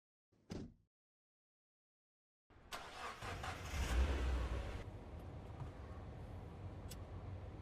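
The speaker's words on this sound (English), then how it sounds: "Okay, honey, I'm in my car. I'm gonna start the drive." A car engine turns over and catches after a short click and a silent pause, then runs steadily at a close, moderate level with no talking over it.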